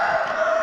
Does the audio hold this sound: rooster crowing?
yes